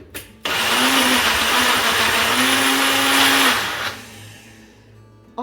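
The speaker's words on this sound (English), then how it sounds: "Then I'm just going to blend for like a second." A kitchen blender whirs loudly for about three seconds as it briefly purees a jalapeno pepper for slow cooker vegetarian baked beans, starting abruptly and spinning down to a quiet hum.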